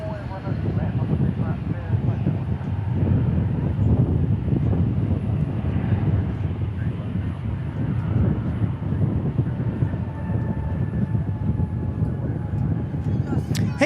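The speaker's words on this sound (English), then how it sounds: "E-175 landing" An Embraer E-175 jet landing at Dallas/Fort Worth airport, a continuous broad engine roar with wind rumble, steady and fairly loud throughout, with a person talking over it.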